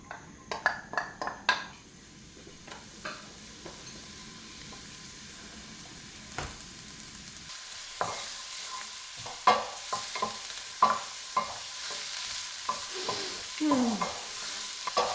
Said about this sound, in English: Now we're going to stir fry our red onion, caramelize it.